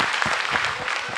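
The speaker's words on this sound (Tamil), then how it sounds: "கைத்தட்ட மாட்டீங்களா?" A church congregation breaks into steady applause, many hands clapping together in a dense, even patter that lasts about a second with no voices over it.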